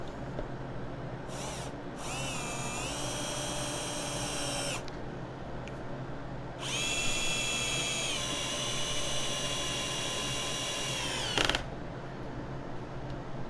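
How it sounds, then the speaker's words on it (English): A power drill whirs in two bursts, the second longer, its motor pitch rising and falling, with brief quiet gaps between. "This is my own personal drill"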